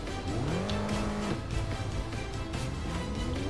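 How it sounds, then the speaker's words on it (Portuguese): Racing car engine in Test Drive Unlimited 2 revving hard in reverse, a rising whine that climbs in pitch, drops and climbs again, loud and continuous with tire noise underneath. "A ré acelerando."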